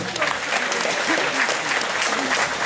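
Audience applause at a student competition event in a theatre setting, greeting the jury head's introduction; dense, steady clapping from a large crowd fills the whole stretch, with a few faint voices mixed in.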